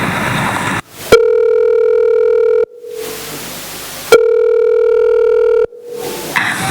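A telephone ringback tone sounds loud and close: two long steady buzzing rings about one and a half seconds each, separated by a pause of background noise, with another pause starting at the end.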